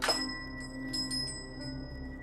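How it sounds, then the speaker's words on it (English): Door chimes at a shop entrance ring on continuously as someone stands in the doorway, a bright struck onset followed by sustained shimmering metallic tones with light repeated jingles, close and moderately loud, no talking. "He stayed standing in the doorway, causing the chimes to continuously sound off"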